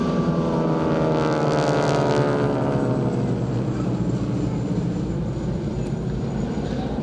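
A North American Harvard advanced trainer, an all-metal piston-engine propeller aircraft, drones steadily at a festival air show, a loud continuous engine roar with no break, nearby and alone without talk.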